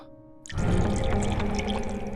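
Plain drinking water pours steadily into a glass in a home, starting abruptly after a short quiet hum and continuing as a full, close, continuous splashing stream.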